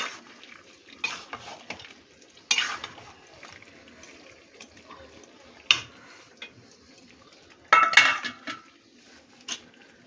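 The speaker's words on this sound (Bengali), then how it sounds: "টমেটোটা দিয়েও মিশিয়ে নিচ্ছি" Chopped tomatoes are stirred into a fish-roe and fish-fat curry in a pan, heard as intermittent scrapes and metallic clinks of a spoon against the pan with soft wet squelching between, close and moderately quiet, with no talk.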